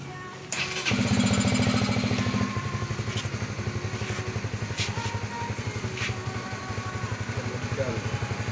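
A Honda CB150R motorcycle engine cranks and catches after a short quiet start, then settles into a steady, close, rumbling idle that carries on to the end.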